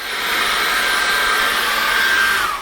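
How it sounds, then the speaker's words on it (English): A hairdryer blows steadily to dry a freshly washed paintbrush during acrylic painting, a loud continuous whooshing hum with a faint whine that holds for the whole span, with no talking. "took a liberty of just drying that very quickly with a hairdryer"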